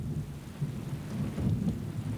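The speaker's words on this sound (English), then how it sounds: "And it started to rain." Heavy rain with low rolling thunder during Hurricane Agnes in June 1972, a dense steady downpour under deep rumbling that swells midway, with no voices.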